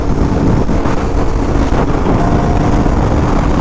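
A new stock motorcycle on a break-in ride, its engine drone and rushing wind blending into a steady, loud, broadband roar with no letup and no talk.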